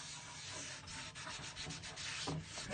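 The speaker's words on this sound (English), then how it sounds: "And I'm going to get my little scrub brush. Make sure everything is loosened up." A small scrub brush works steadily over a cast iron pan, giving a close, continuous rough scratching and rubbing with no talking.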